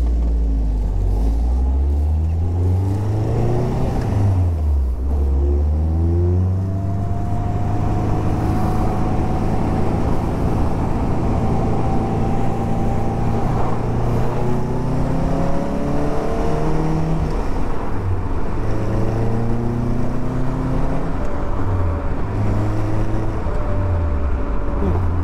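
A Caterham 7 open-top sports car pulls away, its engine note rising and falling through several gear changes, loud and close throughout with steady wind and road noise.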